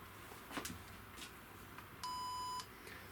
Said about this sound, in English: It's the music maker signaling it's okay.